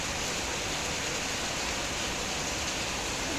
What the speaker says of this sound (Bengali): শব্দ শুনেই সবাই আসলে বুঝতে পারবেন যে গাজীপুরে কিরকম বৃষ্টি হচ্ছে।